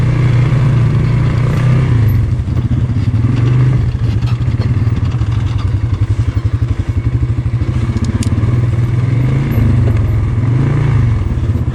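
Polaris Sportsman 570 ATV engine pulling uphill in high gear on a trail, a steady low, loaded drone with fine rapid pulsing that holds near and constant, with occasional thumps and rattles from the machine over rough ground.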